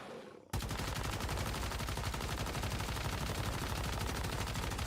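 A rapid automatic weapon loaded with lethal AP ammo in the game Once Human starts abruptly after a brief quiet moment and then fires in a loud, steady, unbroken stream of shots.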